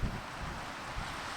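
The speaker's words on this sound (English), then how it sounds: "It's ever so windy down here" Steady wind buffets the microphone at night during astrophotography with a low, continuous rumble and broad hiss, with no voices.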